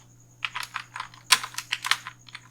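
Fingers type text on a computer keyboard in a quick run of about a dozen close, crisp key clacks in short bursts, over a faint steady hum.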